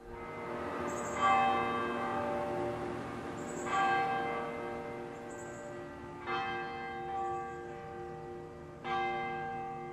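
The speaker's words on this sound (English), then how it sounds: "Bells were generally designed for signals to announce church starting or a fire." Large tower church bells in Burlington strike one after another, each loud, ringing stroke decaying slowly, about five strokes spaced a couple of seconds apart, alone with no talk.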